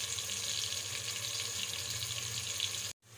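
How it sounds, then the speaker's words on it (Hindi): Chopped onions fry and brown in a pot of oil for chicken pulao, giving a dense, steady sizzle close by that cuts off abruptly near the end. "तकरीबन प्याज ब्राउन होने वाले हैं"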